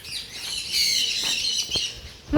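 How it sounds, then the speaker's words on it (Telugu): Several birds call outdoors in a busy chorus of high chirps and squawks, with a few sharp louder notes rising near the end. "ఇక్కడ బర్డ్స్ ఉన్నట్టున్నాయి."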